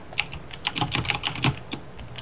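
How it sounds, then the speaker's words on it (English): Fast, loud clacking of a computer keyboard being typed on, crisp uneven keystrokes in quick bursts, close up with no voices. "you're definitely gonna have to do something about your loud as fuck keyboard"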